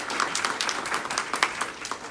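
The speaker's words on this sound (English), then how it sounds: "Let's give our president of the KRAB another round of applause." Audience applause at a real estate investing lunch and learn in Sacramento, a steady patter of hand claps with scattered louder individual claps, moderately close and continuous throughout.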